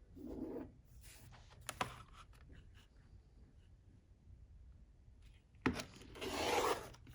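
A rotary cutter slices through folded quilting fabric into 2.5-inch strips. Two short rasping cuts are heard, one near the start and a louder one near the end, with quiet handling in between.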